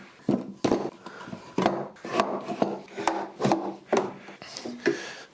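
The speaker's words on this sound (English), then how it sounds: "you can use them for spreading glue" Wood glue being spread over a board with an old plastic gift card in a woodworking shop, heard as a series of close scraping and tapping strokes with short gaps between them, no talk.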